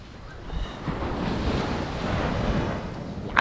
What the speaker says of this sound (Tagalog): Ayan o, naririnig nyo na ba yung tubig?